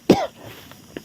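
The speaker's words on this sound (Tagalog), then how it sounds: "Inuubo ako sa baho mga idol." A person gives a single sharp, close cough while gagging at a strong smell, followed by a faint throat-clearing rasp and a small click.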